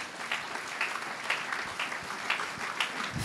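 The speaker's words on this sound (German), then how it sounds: "Ihr kriegt auch noch einmal einen ganz herzlichen Applaus" Audience applause after a male choir performance at a school ceremony, a steady patter of many hands clapping at a moderate distance, with no voices over it.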